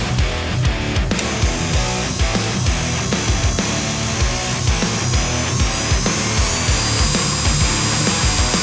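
A benchtop buffing machine polishes an SPK Lumia Gen 4 knife with a nature grip milled handle, giving a steady loud motor whine with rhythmic rubbing and scraping pulses throughout, no talking.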